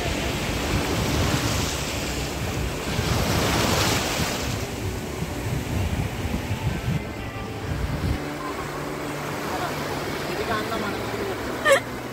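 Sea surf rolling onto Mandarmani beach, a steady broadband wash of waves with some wind noise, moderately loud and continuous, with faint voices in the background.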